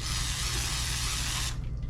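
A steady hiss from an aerosol can of lubricant sprayed onto a rubber fitting, loud and close, lasting about a second and a half before cutting off abruptly, with no talk.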